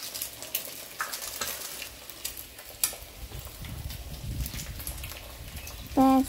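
Maggi noodles being stirred with their masala seasoning in a pan, giving a soft, continuous sizzle and scraping that fills the clip, with a short louder clatter near the end.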